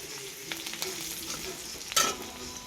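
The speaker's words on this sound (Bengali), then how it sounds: "আমার পেঁয়াজটা ভাজা হয়ে গেল" Chopped onions frying in a pan as the base of a chital fish curry, a close, low sizzle with light stirring taps and one brief sharper scrape near the end.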